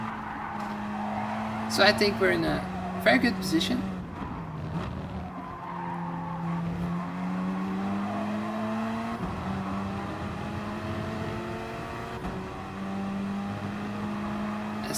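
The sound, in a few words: race cars driving at Fuji in video game Gran Turismo Sport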